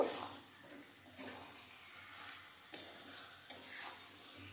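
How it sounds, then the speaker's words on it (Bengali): Chicken stirred into spice masala in a pan over low heat, with a faint, soft sizzle and occasional scraping stirs and light taps against the pan. "মাংসের সাথে মশলাটাকে ভালোভাবে কষিয়ে নেব।"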